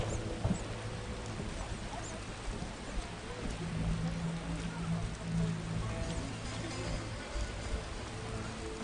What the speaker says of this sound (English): The scourge of the lords, this rain.